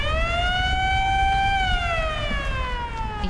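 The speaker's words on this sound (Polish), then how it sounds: "I syreny prawie jak w Silent Hill." Wailing siren from the video game Resident Evil: Revelations 2, a steady rising-and-falling harmonic tone that bends slowly downward, loud and continuous over low rumbling background noise.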